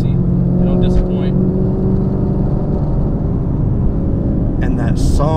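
A six-speed car on an Alpha chassis, fitted with long-tube American Racing headers and Calais mid pipes, holds a steady, deep rumbling drone close by. Faint voices surface near the end.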